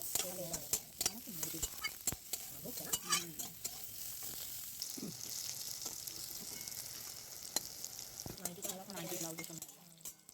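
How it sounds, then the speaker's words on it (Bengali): Diced brinjal sizzling in hot oil in a pan while being stirred, with steady frying hiss and intermittent scraping and clinks of the spatula, close and moderately loud. "ডুমো ডুমো করে কেটে রাখা বেগুনগুলো তেলের মধ্যে দিয়ে ভালো করে নেড়ে চেড়ে ভেজে নিতে হবে"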